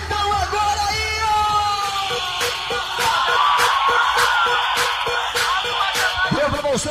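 A crowd gives a big sustained shout at a festa da aparelhagem, a sound-system street party in Belém do Pará, with loud yelling and whooping over pounding music with a regular beat.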